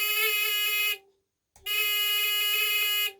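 An electric buzzer in a simple series-parallel circuit drones steadily, cuts out for about half a second, then sounds again in a second long, even burst.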